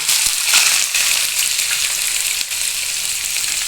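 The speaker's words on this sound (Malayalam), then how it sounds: "കുറച്ച് കടുകും കൂടി ഇട്ടേക്കാണ് ഇനി അത് പൊട്ടുന്നത് വരെ വെയിറ്റ് ചെയ്യുന്നുണ്ട്" Mustard seeds crackling and spluttering in hot oil, close up, with quick sharp pops over a continuous sizzle.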